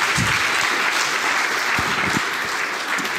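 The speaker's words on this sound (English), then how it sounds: "Give him a big round of applause." Sustained audience applause at a network operators' conference fills the room as a speaker is welcomed onstage, a loud, dense wash of clapping with a few low thumps beneath it.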